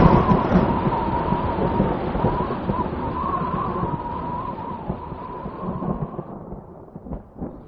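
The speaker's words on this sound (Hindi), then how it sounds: "बाहर कितनी तेज बारिश हो रही है" A thunderstorm with heavy rain gives a continuous low rumble and rushing downpour that fades slightly toward the end, with no voices.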